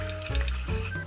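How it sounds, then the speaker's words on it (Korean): Water, about 300 ml, pours into a pan of chili-powder seasoning sautéed on low heat for sundubu jjigae, a brief close splash and gurgle with light sizzling. "이 상태에서 물 300ml를 넣어주세요."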